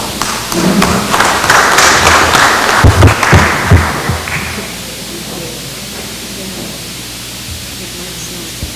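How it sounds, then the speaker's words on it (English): Assembly delegates at the 39th APIL General Assembly clap for a recognised senator, a dense burst of applause with a few sharp thumps that fades after about four seconds into a quieter room hush. "Let's give him a round of applause"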